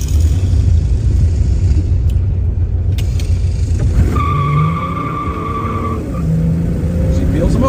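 A 1965 Plymouth Barracuda's engine rumbles loudly while driving, building in revs with a brief tire squeal, all under steady road roar and some talking.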